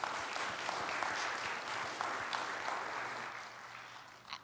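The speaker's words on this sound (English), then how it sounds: "So let's have a round of applause for all of our presenters." A church-event audience gives presenters a round of applause: sustained, dense clapping that holds steady and then gradually thins toward the end, with no talking.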